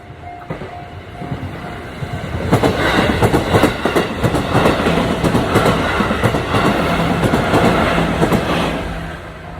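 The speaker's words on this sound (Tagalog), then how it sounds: "Ayan yung tren." A train in Japan rolls past close by near a bamboo forest, its rumble swelling to a steady clatter of wheels on track, then easing slightly toward the end.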